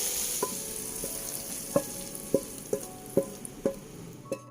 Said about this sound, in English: Stir fry until the liquid absorbs